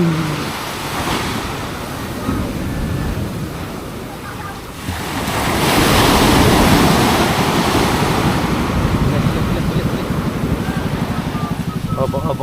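Ocean waves surge and wash continuously, growing louder midway as surf breaks close by, with wind buffeting the microphone throughout.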